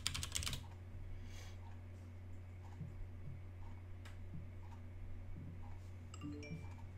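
Keys tapped on a computer keyboard while a password is entered during a software install on an Apple Mac, a short burst of faint clicks at the start followed by sparse taps over a steady low hum.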